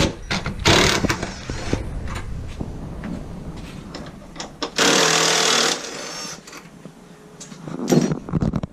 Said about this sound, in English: you take a 10mm socket, put it on the impact gun.